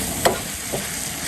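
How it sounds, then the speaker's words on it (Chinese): Crispy pork intestine stir-fried with ginger, garlic and chili in a hot wok, giving a steady close sizzle with a couple of brief scraping stir strokes. "再下入这个脆肠炒"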